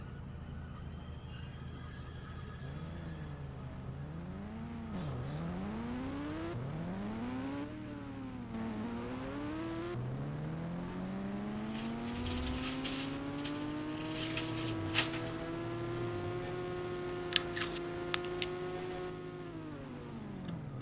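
Motorbike engine from the Indian Bike video game, rising and falling in repeated revving sweeps as the ride goes on, then holding a long steady tone, with a few sharp clicks near the end.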